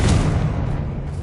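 A Confringo blasting curse explodes in the game Hogwarts Legacy: a short, loud, deep boom that fades quickly into rumble.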